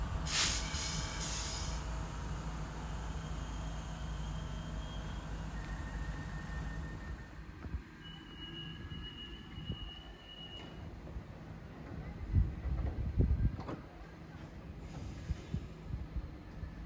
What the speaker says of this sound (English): Bray-bound train has 8500s.